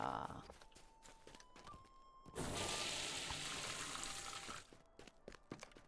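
In a farming video game, water pours steadily for a couple of seconds as a rushing splash, set off by soft stepping clicks before and after. Game sounds play without any talk.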